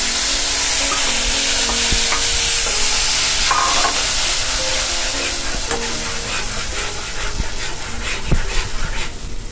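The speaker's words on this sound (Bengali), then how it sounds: "এটা কিন্তু একটু ভাজা ভাজা হবে, একটু কষাবো" Onion and chili paste sizzles and fries in a pan for a fish kalia curry, with steady close hiss and repeated scraping stirs of a spoon against the pan throughout, no talking.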